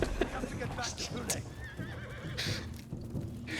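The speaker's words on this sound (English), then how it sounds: "That is not my horse. This is my horse." A horse in the video game Ghost of Tsushima whinnies several times amid clip-clopping hooves and game sounds, while someone talks over it throughout.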